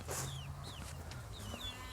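Chicks and chickens make soft, faint cheeps and clucks on a farm, with several thin peeping calls scattered over a low steady background hum.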